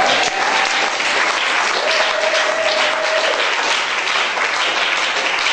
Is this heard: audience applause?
yes